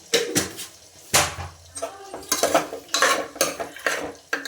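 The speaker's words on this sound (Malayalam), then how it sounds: "കുറച്ച് ഉപ്പിട്ടു നന്നായി ഒന്ന് ഇളക്കണം" Chicken and salt are stirred in a pot for biryani, with repeated clanking and scraping of a spoon against the metal in quick, uneven strokes, close and fairly loud.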